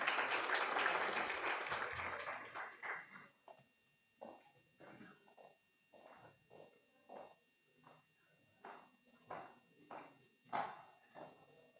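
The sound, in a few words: audience applause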